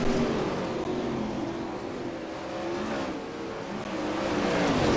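Several 410 sprint car engines race around the Fairbury dirt track in a sim racing game, a steady loud mechanical drone with shifting pitches as cars accelerate and lift off the throttle.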